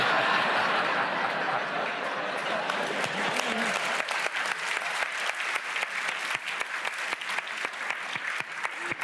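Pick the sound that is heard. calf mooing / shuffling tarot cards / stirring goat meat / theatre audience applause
theatre audience applause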